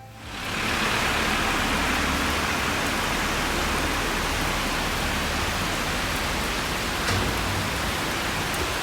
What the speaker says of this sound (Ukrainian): Дощ сильний, як із відра.